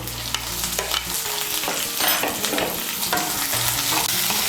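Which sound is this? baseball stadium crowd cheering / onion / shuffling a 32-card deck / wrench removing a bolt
onion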